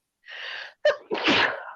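A single loud sneeze up close: a sharp inhaled breath, a brief catch, then an explosive burst of air that trails off.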